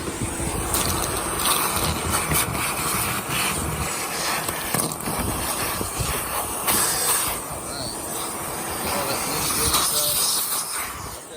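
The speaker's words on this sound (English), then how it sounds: "we're going to go to our rigid, going to turn it on" A loud, steady roaring whoosh of a Ridgid wet/dry shop vacuum running continuously at close range while cleaning an engine bay, with air rushing and rattling throughout.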